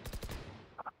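Gunfire in a shooter video game, a quick string of about four sharp shots followed by a couple of short clicks, loud and close.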